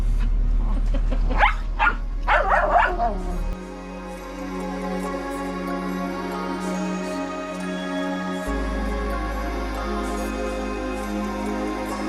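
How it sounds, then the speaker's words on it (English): A few quick barks from two dogs in the first seconds, fairly close, then a steady droning background with no further barking, aboard a boat in the North Channel near Heywood Island. "2 dogs, barking."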